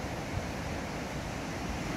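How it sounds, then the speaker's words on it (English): Flood water rushes over a river weir beneath a low bridge, a steady, broadband roar that fills the whole clip at moderate level with no breaks. "there's a lot of water flowing over the weir"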